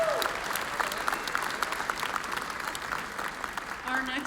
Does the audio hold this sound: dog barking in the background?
no